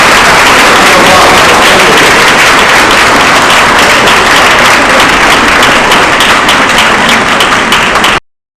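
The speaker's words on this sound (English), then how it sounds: "Let's give a round of applause." A loud, dense round of applause fills a middle school graduation ceremony, steady clapping from a large crowd continuing without a break before cutting off abruptly at the end.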